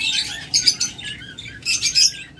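Caged pet sun conures, tame birds offered for sale, chirping in bright, rapid bursts that rise and fall across a short stretch, close and fairly loud with no talking.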